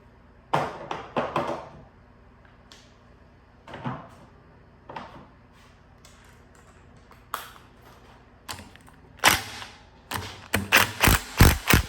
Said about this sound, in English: you can watch as I try to get these head bolts off.